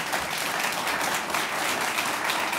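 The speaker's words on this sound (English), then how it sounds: "Now you can give them a round of applause" A crowd applauds at the close of a Florida gubernatorial debate, a loud, dense and continuous roar of clapping that fills the whole moment without pause.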